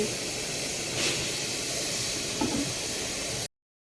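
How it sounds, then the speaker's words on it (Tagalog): A steady, broad hiss of steam from a boiling pot, fairly loud and unbroken, with faint clinks before it cuts off abruptly. "Kasi kanina pa siya sobrang kumukulo."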